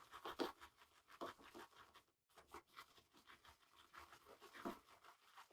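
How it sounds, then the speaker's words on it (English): A shaving brush works into a very hydrated shave soap with a steady, close, bristly scratching and swishing, in rhythmic strokes with a brief pause midway. "So I'm going to start lathering."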